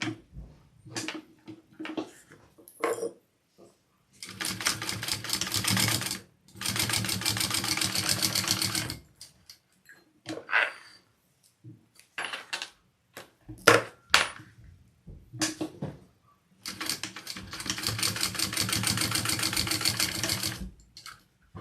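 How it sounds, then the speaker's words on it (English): Domestic sewing machine running in long steady bursts as it stitches two rows along a folded fabric edge for a sling, with short pauses and small handling clicks between runs, close and loud. "And now we're going to do 2 rows of stitching along this edge."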